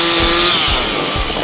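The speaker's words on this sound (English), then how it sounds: "I hear progress every time I hear the beeping noise or I hear a chainsaw." Chainsaw cutting fallen trees blocking a road after a storm in Sanford, North Carolina, a loud steady engine whine with three rhythmic low bursts as the blade bites into wood, close and alone.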